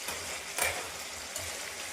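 Pre-fried boneless chicken pieces drop into hot oil for a spicy chicken pickle, giving a steady soft sizzle with brief bursts of louder crackle and stirring.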